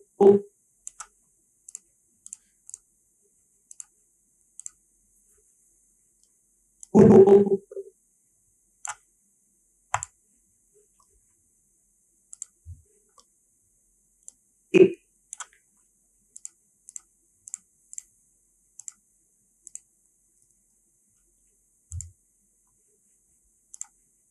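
A computer mouse clicks through an animation timeline, sharp isolated clicks scattered at irregular intervals with short bursts of clustered clicking and brief voice fragments in between, close and dry in a quiet room.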